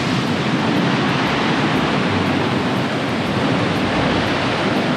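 A river in the Tolima highlands at Las Gachas runs strongly over rock, giving a steady, loud, broadband rush of water that continues without break and with no voices.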